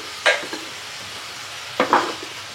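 Sweet Gobindobhog pulao rice stirred in a hot pot: two short scraping stirs, each with a quick crackle, stand out against a faint sizzle.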